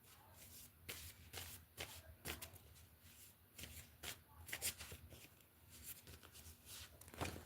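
Tarot cards being shuffled by hand, heard as a string of quick, close riffling bursts and soft slaps recurring every second or so, fairly quiet with no talking.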